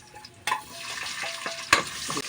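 Onions drop into hot frying oil with a sudden loud sizzle, then get stirred with scraping utensil strokes over a steady crackle, with a second sharp burst of sizzling partway through; no one speaks.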